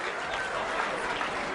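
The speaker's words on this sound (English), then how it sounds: "They're chanting 2." A bowling tournament crowd at the PBA Tournament of Champions chants in unison, a loud, steady roar of many voices with clapping mixed in, sustained throughout.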